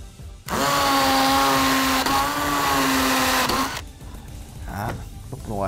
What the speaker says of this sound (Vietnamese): Đối với con HP457 này thì có tính năng khoan búa à, cho nên mình sẽ thử khoan tường nha anh em.